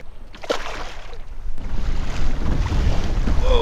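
Steady wind rushing past a boat out on open bay water, with waves slapping the hull, continuous and fairly loud throughout, a few sharper gusts buffeting the microphone.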